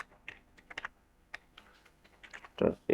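Keys clatter on a computer keyboard as text is entered in a word processor, a close, quiet run of separate clicks in short bursts with pauses, under a speaking voice.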